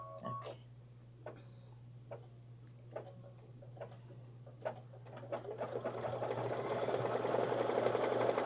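A sewing machine stitches across the bottom of a bag lining, first as a series of separate clicking ticks and then as a steady, louder run of stitching that builds toward the end, with a constant low hum underneath.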